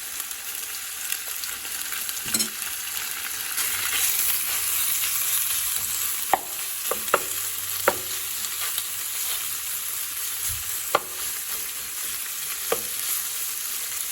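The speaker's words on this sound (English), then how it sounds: "So I'm going to add our beef and cook it for about 3 to 4 minutes." Beef stir-frying over a big high-heat burner, a steady close sizzle throughout with occasional sharp clicks and scrapes of a utensil against the pan, no voices.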